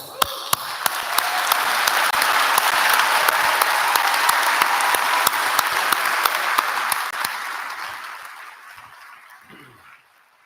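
Applause from an audience at an honours ceremony as names are read out, a dense steady wash of many hands with a few sharp nearby claps on top, swelling quickly, holding, then tapering away near the end.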